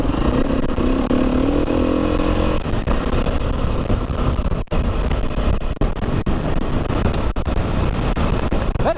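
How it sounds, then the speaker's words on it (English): Strong wind roars and buffets the microphone while riding a motorcycle, a loud continuous rushing blast with engine rumble underneath and brief dips in gusts. "That is a lot of wind, wow."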